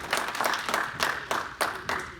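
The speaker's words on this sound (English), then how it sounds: "Let's give Sara a warm round of applause" An audience at a small evening business spotlight event claps steadily, a brief burst of applause from a modest crowd with individual claps audible in a quick rhythm.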